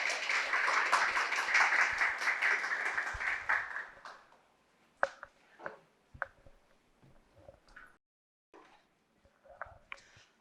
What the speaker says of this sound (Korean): 큰 박수로 좀 맞이해 주세요.